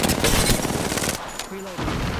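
Rapid automatic gunfire in the video game Apex Legends, a dense loud burst of shots that cuts off partway, followed by quieter game sounds and a short tonal chime.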